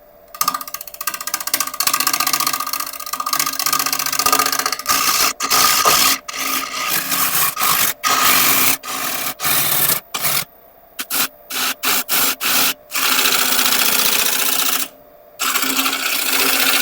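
Bowl gouge cutting a crotch elm bowl on a wood lathe, a loud continuous scraping hiss broken by frequent short gaps as the tool lifts off, close up.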